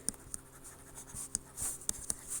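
Someone writing line by line on a board during an accounting lecture, quiet scratchy strokes and taps in an irregular rhythm, close and faint with no talking.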